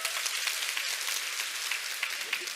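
An indoor audience at a business success talk claps steadily in a dense, continuous round of applause at moderate volume, with no talking.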